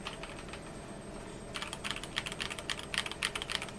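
Typing on a Logitech computer keyboard with a scroll wheel, a soft, creamy-sounding board: quiet at first, then a steady run of close, rapid key clicks in an irregular rhythm, with no voices.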